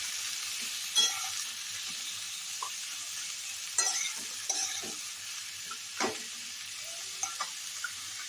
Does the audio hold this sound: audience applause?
no